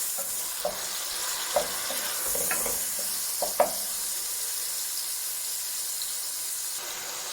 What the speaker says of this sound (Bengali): মশলাটাকে আমি ভালো করে আগে কষে নেব।